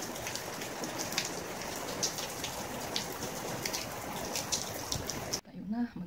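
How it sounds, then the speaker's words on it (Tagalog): Heavy rain pours steadily outdoors in a garden with sunflowers, a dense close hiss of drops and patters that cuts off abruptly near the end, followed by a brief voice. "Oh, it's raining."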